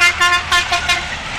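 A bus pulls in, sounding its horn in a quick series of about five loud, close toots over the rumble of its engine.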